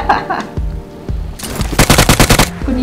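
Rapid automatic gunfire in the mobile battle royale PUBG Mobile, a few scattered loud shots followed by a fast dense burst of about a dozen rounds, close and punchy.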